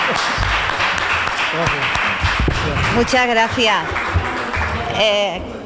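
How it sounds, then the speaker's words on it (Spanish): Audience applause at a Spanish public lecture about a neighbourhood's 150-year history, a short burst of clapping followed by a speaker talking into a microphone. "así que también yo pediría un aplauso para ella"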